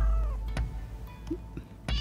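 A cat meows in Rise of the Ronin, the PS5 samurai action game, with a drawn-out meow at the start followed by shorter mews and a few small thumps, close and clear without talking over it.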